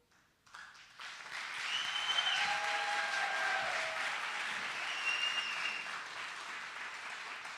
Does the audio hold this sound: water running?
no